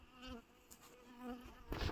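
Soft buzzing of honeybees at a hive in an abandoned apiary, several insects droning faintly and rising and falling in pitch as they fly nearby.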